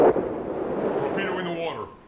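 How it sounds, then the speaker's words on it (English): A submarine torpedo launch in the video game Silent Hunter 4: a loud, booming burst followed by a sustained rushing whoosh that fades out, with a voice over it. "Torpedo in the water."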